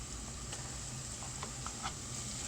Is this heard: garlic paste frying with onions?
yes